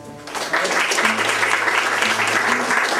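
An audience breaks into applause to welcome a marinera performance at a book launch event, the sustained clapping loud and dense over a low murmur, with no speech.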